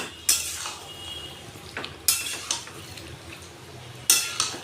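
A spoon stirs labra mixed-vegetable curry in a pot: three sharp metallic scrapes and clanks arrive about two seconds apart, each followed by soft shuffling and a quiet simmer underneath.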